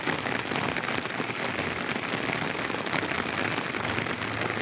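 Rain falls on the Tulsiganga river in Naogaon, a dense, steady patter of drops that is loud and continuous without a break.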